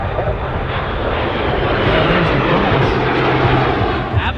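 Pair of Lockheed T-33 Shooting Star jets flying past at high speed during a Pacific airshow, a loud sustained engine roar swelling slightly toward the middle, with faint crowd or announcer voices mixed in.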